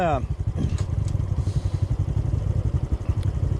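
A Honda CT motorcycle fitted with a big bore kit is ridden along a trail, its small engine chugging in a steady low, loud drone throughout, with faint clatter over the top.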